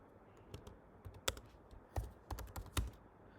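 Someone types on a computer keyboard while writing Python code, an irregular run of crisp, close key clicks with a few heavier strokes and no talking.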